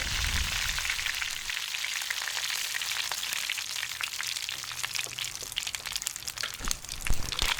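Mustard seeds, urad dal and curry leaves fry in hot oil in a red iron pan for sesame rice, with a dense steady sizzle and scattered sharp pops and crackles that grow busier toward the end, close and alone.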